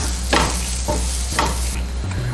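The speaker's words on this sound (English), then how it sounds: "Give it a nice mix." Masala with turmeric, garam masala and pepper powder is stirred in a sizzling pan, with repeated scraping strokes over a steady close frying hiss, no talk.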